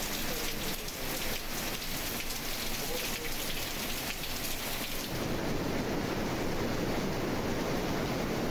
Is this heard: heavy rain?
yes